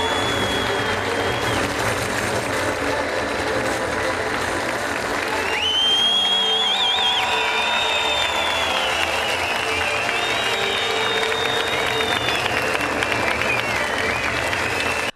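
Theatre audience in Maltepe on its feet giving Levent Kırca and his company a long standing ovation, dense sustained clapping with scattered whistles and cheers, loud and close throughout.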